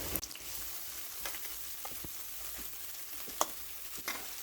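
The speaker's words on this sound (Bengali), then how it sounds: "এখন আমি পেঁয়াজ একটু ভেজে নেব ব্রাউন কালার করব না যেন কাঁচা গন্ধটা চলে যায়" Onions fry gently in a pan for a beef and bottle gourd curry, a steady close sizzle with occasional soft clicks and scrapes of stirring, no voices.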